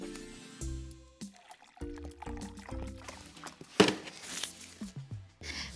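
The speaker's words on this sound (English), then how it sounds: "fill a big jar or vase or tank about 2/3 full of water" A big jar being filled about two-thirds full of water, with close, uneven gurgling, pouring and splashing in short bursts and sharp drops. No one speaks.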